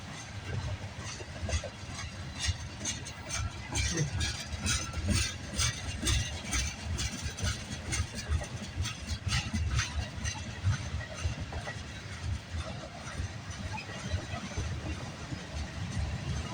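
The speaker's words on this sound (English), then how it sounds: "A lot of these trains going eastbound goes pretty slowly" A slow eastbound CN freight train rolls past a snowy crossing on a Sunday morning, a steady rumble with rhythmic clickety-clack of wheels and faint hiss, sustained and fairly close throughout.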